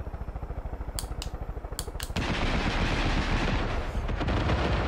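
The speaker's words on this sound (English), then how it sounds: "Fire missile." A missile launches in Far Cry 5 over rapid machine-gun-like fire: a rattling burst of evenly spaced shots, sharp cracks, then a loud, sustained roaring whoosh that fills the rest of the moment.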